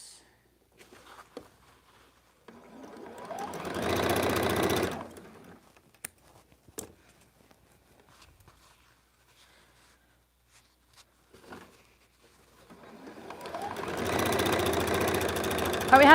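A home sewing machine runs in two steady bursts of a few seconds each while stitching batik paper string blocks, separated by quiet handling taps and rustles on a crowded work surface.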